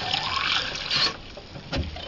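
Water sloshes and trickles while a hookah vase is rinsed out, a splashy pour with a few uneven surges and gurgles, close and fairly loud, no talking.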